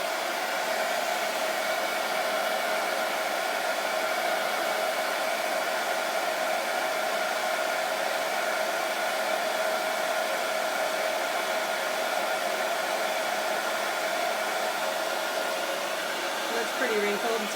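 A hair dryer set to high heat and low speed blows steadily over a wet, wrinkled watercolour painting on paper, a continuous close whooshing hum that stays even from start to finish.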